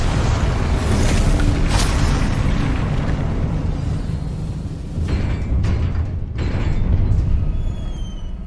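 Confringo and Expelliarmus spells cast in Hogwarts Legacy, a steady run of loud booming blasts and crackling bursts over a dense rumbling background, with sharp bright impacts repeating throughout and no talking.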